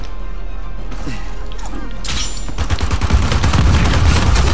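Gunshots and rapid bursts from a team deathmatch multiplayer match in Uncharted 4, quieter at first and then a loud, busy volley of fire in the second half.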